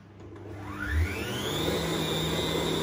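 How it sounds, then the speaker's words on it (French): An electric mixer spins up with a rising whine and then holds a steady whir as it blends almond paste into beaten eggs, loud and close with no voices. "Et on va donner déjà un petit coup de mixeur."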